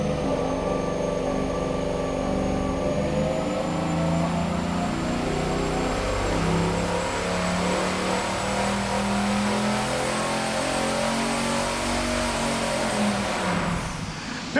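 A turbocharged 440 engine on a dyno, boost being raised, revving hard in a loud sustained roar with rising and shifting pitch, close up and continuous, easing off at the very end.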